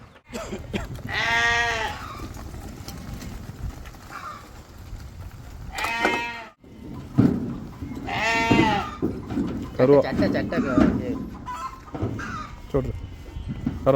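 Mayilambadi sheep lambs, a pen of around sixty young lambs, bleat repeatedly at close range over steady farmyard background noise, with several distinct bleats spread across the stretch.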